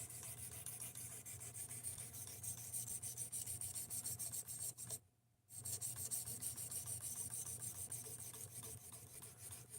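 An Ozark Trail knife blade is worked over a 1200 grit sharpening stone, giving a steady, close rasping rub that repeats in even strokes, with one brief pause partway through. No one speaks.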